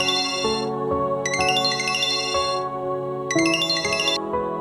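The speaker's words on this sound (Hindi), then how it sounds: "ये बार बार फोन क्यों बज रहा है?" A phone ringtone plays its chiming melody over and over, a bright tinkling tune of rising and falling notes repeating clearly with no one speaking.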